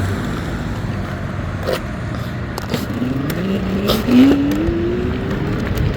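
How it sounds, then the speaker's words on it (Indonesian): Cars pass by on a busy road, a steady loud traffic roar with one engine note rising in pitch as it goes past. No voices can be heard. "karena ada mobil banyak, saya muter dulu"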